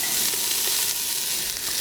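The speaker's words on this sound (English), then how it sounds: "we're going to put in the onion, and that's what you want to hear, is that nice little sizzle" Chopped onion sautéing in a pot for chicken tortellini soup, a bright steady sizzle with faint stirring clicks, close and loud, alone with no talk.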